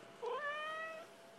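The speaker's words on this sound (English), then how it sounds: "What are you meowing about?" A single drawn-out meow from a black cat, rising then sliding down, fairly clear and close against a quiet background.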